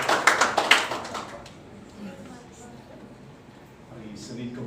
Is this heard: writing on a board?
no